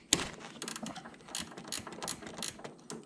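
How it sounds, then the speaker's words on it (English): A ratcheting wrench clicks rapidly and fairly quietly as it removes the caliper bolts on a 2011 Yamaha Apex snowmobile, in short bursts of metallic ticking at close range. "The ratcheting wrench works really good for this because the quarters are pretty tight."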